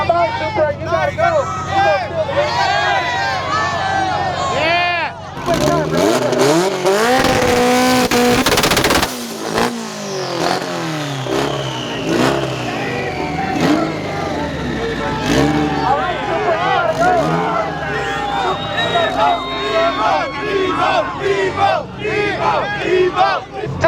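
A Mitsubishi EVO and a Toyota Supra trade two-step anti-lag revs at a car show, sharp rapid popping and crackling bursts over a cheering crowd, loud and close, with shouted voices between hits.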